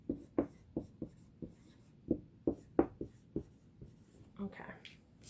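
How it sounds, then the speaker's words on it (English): Pen or marker writing a couple of words by hand, heard as a series of short, close scratchy strokes in an irregular rhythm, with a brief soft rustle near the end. "So I'm going to just write a couple of words down here."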